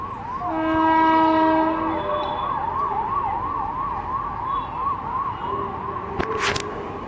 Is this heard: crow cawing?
no